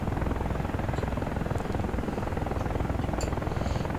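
AH-64 Apache helicopter flying in the combat flight simulator DCS World, a loud steady rotor thump and engine drone throughout, close and unbroken, with no talking.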